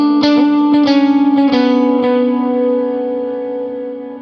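Electric guitar played through a Line 6 Helix with dotted eighth-note delay and large reverb, a handful of picked notes ringing into a long ambient wash that slowly fades, loud and alone without talk.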